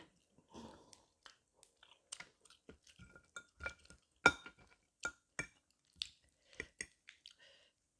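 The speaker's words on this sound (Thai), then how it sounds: "แคบหมูโดนโดนน้ำตำแตกปลบๆๆ" Pork cracklings dipped in spicy papaya salad dressing being chewed, giving a string of close, separate crunchy bites and squishy crackles in a steady rhythm, with no talking.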